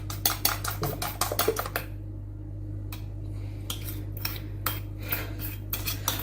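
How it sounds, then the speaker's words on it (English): A spoon clinks and scrapes against a bowl as treacle loaf batter is mixed, in quick clattering bursts, a short pause, then more scattered taps, close and fairly quiet. "Give it a good mixture so I get everything."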